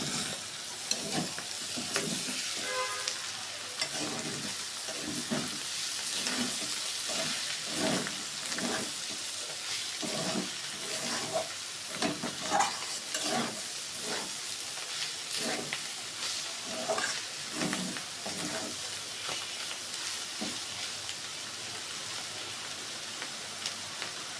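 Bitter gourd (karela) frying in a pan over a lowered flame, a continuous crackling sizzle with repeated rhythmic stirring scrapes throughout, close and steady, with no speech.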